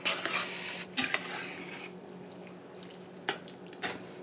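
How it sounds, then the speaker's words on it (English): A spoon stirs meat spaghetti sauce in a cooking pot, giving a few sharp metallic clinks and scrapes in short bursts, with a soft wet simmer between them. "Give that a stir quickly so that I'll end up wearing all of the spaghetti sauce"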